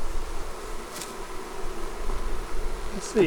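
Honeybees buzzing loudly around hives in a bee yard, a dense steady hum filling the background, close and continuous, while a person speaks briefly over it.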